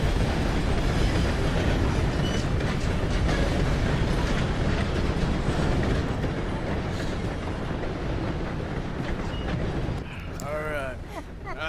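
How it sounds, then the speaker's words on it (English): A steam train in Red Dead Redemption 2 rumbles past with a dense, steady roar and rhythmic clatter, loud and close throughout, fading slightly near the end as voices talk over it. "Gotta beat that train, Morgan."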